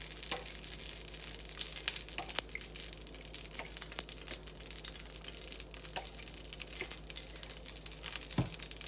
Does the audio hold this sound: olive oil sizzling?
yes